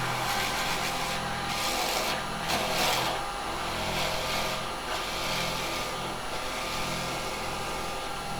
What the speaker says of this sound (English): So I'm just going to drill a hole.